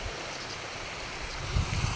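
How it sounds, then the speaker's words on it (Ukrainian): Fountains and small waterfalls at a hotel complex on the Dniester in Ukraine give a steady, moderate wash of splashing water, with a few louder low thumps near the end and no speech. "Показую, які класні фонтанчики."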